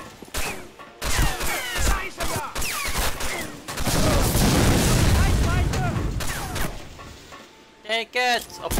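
Pistol fire in the video game Medal of Honor: Frontline, with repeated sharp shots and booming blasts amid battle noise, mixed with game voices talking.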